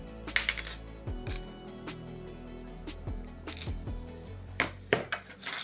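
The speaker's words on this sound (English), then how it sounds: "we need to remove the SIM card tray" A SIM card tray being removed from a Samsung Galaxy A70 phone, a close series of small metallic clicks, taps and rattles at irregular intervals, with no talking.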